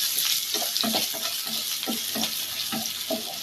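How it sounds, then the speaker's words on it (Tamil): Onions fry in oil with cumin, cinnamon, cloves and bay leaf for a prawn curry, giving a steady, close sizzle with soft scraping stirs recurring throughout. "வெங்காயம் வதங்கிட்டு இருக்கு"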